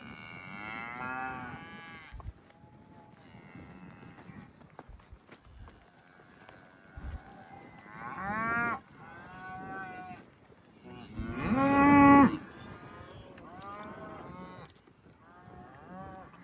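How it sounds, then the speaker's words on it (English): A bull bellows several long, drawn-out moos among cattle in a field, the loudest call near the end, with wind noise and faint footsteps or hoof sounds between calls. "Got one of the neighbor's bulls in here."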